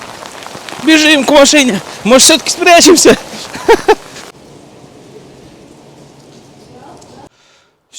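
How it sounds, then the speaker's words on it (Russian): Hail and rain falling on Madeira during a stormy evening: a steady, hissing patter that starts after a few seconds of conversation and continues alone before cutting off near the end. "Ой-ой-ой, град пошел."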